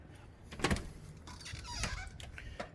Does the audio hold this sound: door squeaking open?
yes